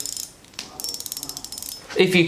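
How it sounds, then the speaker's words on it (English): Crisp clicking of a light fishing reel with cutout-patterned body, rapid ratchet-like ticks in bursts as it spins, close up, with a brief voice at the end. "the sound that's coming off these reels is actually just so crisp"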